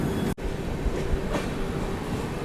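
Sadbhawna Express passenger train on the Anand Vihar–Raxaul route rolling along the rails as it picks up speed, a steady loud rumble of wheels and carriage noise with one sharp brief dropout near the start.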